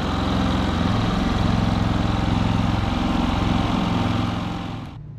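A Predator 5000 and a Cummins 4500 portable generator run together, a loud steady engine drone with a low rumbling hum that cuts off sharply near the end.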